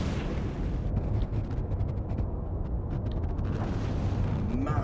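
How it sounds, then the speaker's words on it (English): Ships fire cannon broadsides in a naval battle video game, producing a dense, continuous rumble of overlapping booms and blasts at moderate loudness. "Get a good broadside off."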